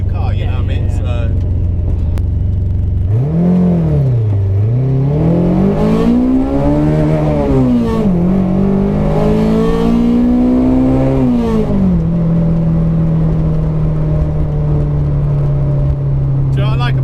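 A Hillman Imp fitted with a motorcycle engine revs up hard in several sweeping rising and falling surges before settling into a steady high drone, loud and close, with faint talk early on.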